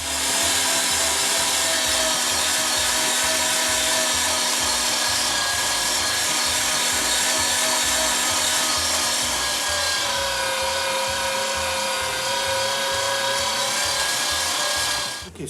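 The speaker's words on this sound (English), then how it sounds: "So the next step, we're gonna grind it." An electric meat grinder runs continuously, grinding meat for Calabrese sausage, with a loud, steady motor hum and whine that holds for the whole stretch before cutting off at the end.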